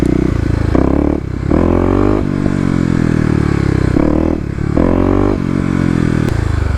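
A Kawasaki KLX250 dirt bike revs hard in first gear with the front wheel lifting, its loud, close engine rising in pitch through repeated pulls, broken by brief gaps between bursts.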